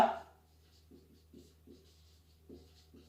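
Pen or chalk scratches out physics lesson notes in short, soft bursts of scribbling separated by brief pauses, faint and close in a quiet room after a short opening sound.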